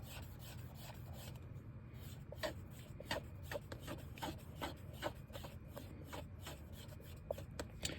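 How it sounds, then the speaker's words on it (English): A Q-tip rubs sticker residue off a video game cartridge, a quiet close scratchy rasp in short repeated strokes with faint clicks, no voices. "Just go like this as you slowly move that Q-tip in the other direction."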